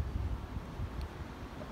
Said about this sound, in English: Here comes another gust. Cover my mic.